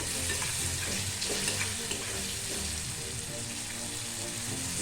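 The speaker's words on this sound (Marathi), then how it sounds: "मी 1 वाटी भरून हिरवे वाटाणे घेतले. छान असं परतून घ्यायचं आहे 2 मिनिटं." Green peas with garam masala sauté in a hot pan, a steady close sizzle and crackle with faint scraping of stirring throughout.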